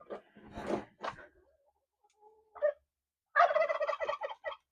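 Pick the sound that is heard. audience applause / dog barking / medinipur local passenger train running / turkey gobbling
turkey gobbling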